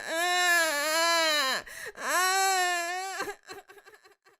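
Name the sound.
voice imitating a baby crying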